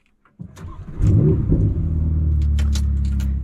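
A Ferrari 488 Pista's 3.9-liter twin-turbo V8 with stock exhaust cranks and fires up, then settles into a loud, steady, deep idle rumble close by.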